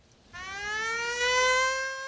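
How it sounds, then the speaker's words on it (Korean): A loud wailing siren sounds in a town, starting abruptly and holding a rising, sustained tone, echoing as if across open streets, with no talking. "갑자기 마을에 울리기 시작하는 사이렌."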